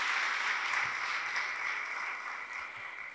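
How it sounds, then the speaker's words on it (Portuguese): A church congregation at an opening worship service applauds steadily: a soft, continuous wash of many hands that sounds somewhat distant and fades slightly toward the end. "Dá um forte aplauso ao Senhor"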